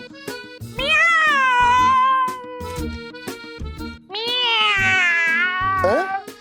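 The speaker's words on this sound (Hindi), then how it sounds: "ये चाइनीज बिल्ली कहाँ से आ गई?" A cat meows in a home setting in long, drawn-out, wavering cries, two loud sustained calls with shorter mews between, set against regular percussive beats of background music.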